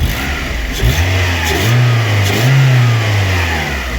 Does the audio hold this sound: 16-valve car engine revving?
yes